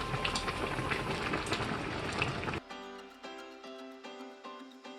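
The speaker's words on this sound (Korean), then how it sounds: "오늘 먹을 한 끼로 광어 매운탕을 끓이고 있습니다." Spicy flatfish stew (gwangeo maeuntang) boiling in a pot, a dense bubbling and sizzling texture for a few seconds, close by, then cutting to quieter clinking and tapping sounds.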